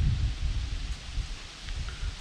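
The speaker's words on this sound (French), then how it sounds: "Un vent très chaud." Hot wind blows steadily through leaves beside a gravel pit on a summer carp-fishing trip, a continuous low rustling rush with gusts and no voices.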